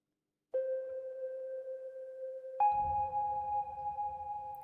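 Soft synth melody played on Elementary Sounds Reika, two long sustained notes, the second entering higher with added low texture beneath, gentle and spacious with no other sounds.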